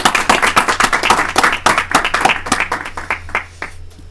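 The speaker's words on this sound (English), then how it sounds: "let's get another round of applause for Captain Smith." An evening convention audience claps in a dense, rapid patter of many hands, loud at first and thinning out toward the end.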